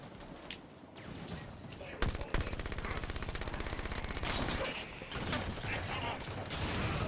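Rapid automatic gunfire from the video game Halo 5, a dense sustained burst of evenly spaced shots starting after a quieter stretch, with a voice talking underneath during play.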